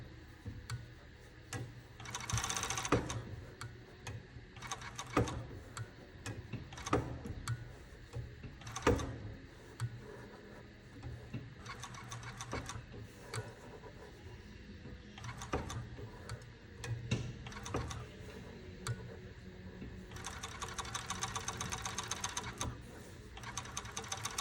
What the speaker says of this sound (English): that's how I do a curve with the overlocker